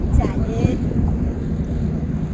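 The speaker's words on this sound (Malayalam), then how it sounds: "അതുകൊണ്ട് തന്നെ നല്ല കാറ്റുണ്ട്" Strong sea wind blows at a seaside marina in Lusail, Qatar. Loud, low rumbling gusts buffet the microphone continuously while a person talks over it.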